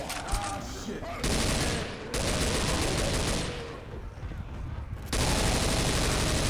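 Heavy gunfire in the zombie shooter Left 4 Dead 2 with a US Ranger mod, sustained bursts of rapid automatic shots broken by short pauses, loud and close, with players shouting over it.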